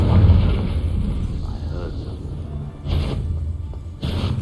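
Confringo, an explosive spell cast in Hogwarts Legacy, lands as two sudden bursts over a low rumbling background, close and loud, with a voice speaking beforehand.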